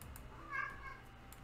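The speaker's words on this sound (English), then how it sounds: "And I apologize if you can hear my cat." A pet cat gives a single short, faint meow indoors, partly masked by room noise and soft keyboard clicks.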